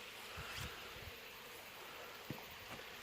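Bees buzzing around beehives at an apiary, a faint continuous hum with a few louder insects passing close amid outdoor air noise.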